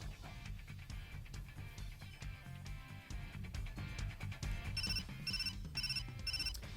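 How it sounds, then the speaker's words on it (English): In a video game, a phone ringtone chimes from a coat pocket: a repeating electronic melody over background music, with bright bell-like tones pulsing in regular bursts toward the end. "Just then, I heard a ringtone chiming from Rindo's coat pocket."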